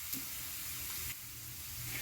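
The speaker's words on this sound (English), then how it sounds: "We need to fry this." Spices sizzle steadily in hot oil in a pan, a soft continuous frying hiss with faint crackles throughout, close and fairly quiet, with no voices.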